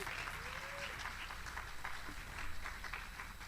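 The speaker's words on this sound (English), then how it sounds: "You could clap." A church audience claps briefly, a soft, fairly distant patter of applause with a faint murmur beneath.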